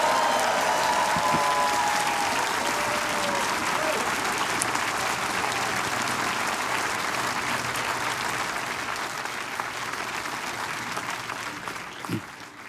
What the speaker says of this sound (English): A big cheer, please.